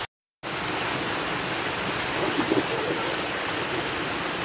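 Steady broadband rush of a stream flowing at Mina Tunnel in Cavite, loud and continuous after a brief silent gap at the start, with no talk.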